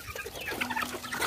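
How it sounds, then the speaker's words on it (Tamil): A farmyard turkey gives a short burst of close clucking and warbling calls lasting about a second, with no speech. "இது வான்கோழி."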